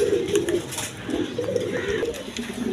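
Tulip pigeons coo in repeated low, throaty rolls, several overlapping calls continuing steadily at close range with no talk.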